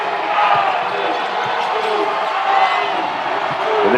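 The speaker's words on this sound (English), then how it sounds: "the crowd trying to get into it at the Stan Sheriff Center" A basketball crowd at the Stan Sheriff Center roars steadily during a Hawaii versus Georgia Tech game at the Diamond Head Classic, a broad sustained arena din with faint thuds underneath.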